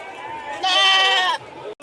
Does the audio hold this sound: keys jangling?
no